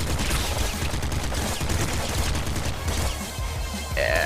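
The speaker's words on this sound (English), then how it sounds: "pop gun's probably my favorite gun in the entire game" The pop gun in the video game Nuclear Throne fires in a dense, rapid stream of small popping shots mixed with game effects, loud and continuous, with a short electronic tone near the end.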